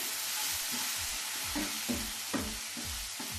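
Tomatoes fry with added masala such as Maggi masala or kitchen king masala in a pan, a constant loud sizzle broken by a series of rhythmic scraping stirring strokes.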